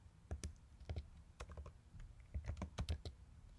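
Rapid bursts of keystrokes on a computer keyboard while code is typed, clustered into quick uneven runs with short pauses between them, close and fairly quiet.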